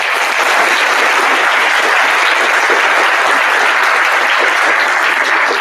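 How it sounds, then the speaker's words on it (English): Sustained, loud applause from an audience honoring veterans at a Veterans Day gathering, steady and dense clapping filling the whole stretch without a break. "please, a round of applause again for our veterans"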